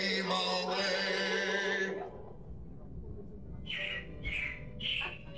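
Animatronic robins chirping on the Carousel of Progress ride at Walt Disney World, three short bright chirps after music fades out, heard against a low murmur of the audience.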